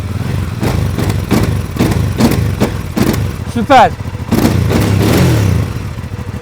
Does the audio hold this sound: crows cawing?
no